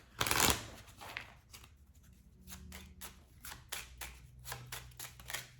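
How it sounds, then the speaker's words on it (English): Kipper tarot cards are shuffled and drawn by hand, opening with a sharp riffle burst followed by a series of soft, rhythmic card flicks and slides, close and quiet. "Let's draw a Kipper card for you"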